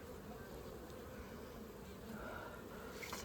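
Faint, continuous buzzing of grey honey bees at an apiary, a soft hum that rises a little toward the end.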